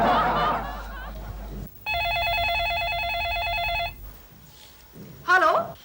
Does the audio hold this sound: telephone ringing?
yes